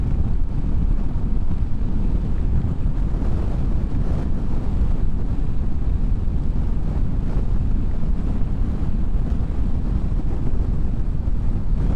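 Strong gusty wind roars continuously outdoors on a blustery day beside a motorbike, a heavy low rumble buffeting the microphone throughout with no letup.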